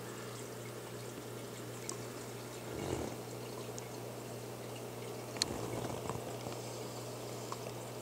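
Bubbles stream through a planted 8-gallon Fluval aquarium, a faint steady fizz and trickle over a low pump hum, with a couple of slightly louder gurgles along the way.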